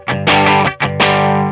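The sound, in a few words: distorted electric guitar power chord with fretting-hand muting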